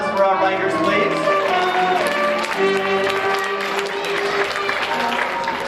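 A school audience applauds student writers at a poem event. Clapping rattles beneath cheering and raised voices from the crowd.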